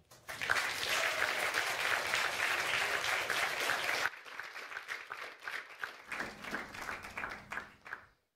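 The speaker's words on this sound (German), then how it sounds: "einen großen Applaus" Concert audience applauds a young performer at a youth music festival concert in Helsinki, a loud dense burst of clapping for about four seconds that drops to thinner, scattered claps before fading out.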